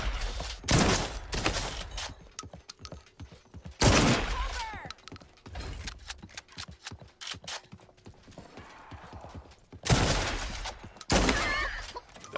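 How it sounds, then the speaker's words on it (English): Shotgun blasts in the video game Realm Royale, several loud booming shots in separate bursts with mechanical clatter between them and occasional talk underneath. "I've got my shotgun out. It's ready. Blast the crap out of you."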